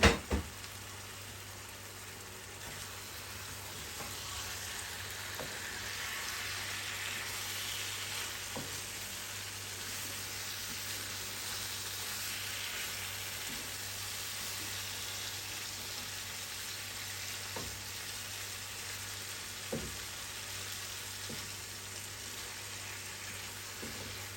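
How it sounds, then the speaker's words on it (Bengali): Boal fish fries in oil in a pan while being stirred. A steady, fairly loud sizzle carries on throughout, with a few soft knocks of the utensil against the pan. "মাছটাকে একটু নেড়ে দেই।"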